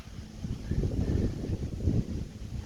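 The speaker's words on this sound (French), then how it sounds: "Il y a pas mal de vent, fait que je sais pas comment ça va sonner dans le micro" Steady wind buffets a microphone outdoors beside a Subaru BRZ, producing low rumbling gusts that swell and fade continuously with no other distinct sounds.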